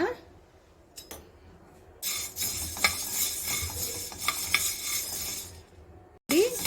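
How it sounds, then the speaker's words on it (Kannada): Black peppercorns dry-roasted in a pan for sambar powder, stirred with a metal spoon: steady scraping and rattling against the pan, with clinks and short pauses, close and moderately loud, no voices. "ಈಗ ಇದೇ ಬಾಂಡ್ಲಿಗೆ ನಾನು ಮೆಣಸನ್ನು ಹಾಕೊಳ್ತೀನಿ ಮೆಣಸನ್ನು ಹಾಗೆ ಬಿಸಿ ಮಾಡಿ ತಗೊಳ್ಳೋಣ"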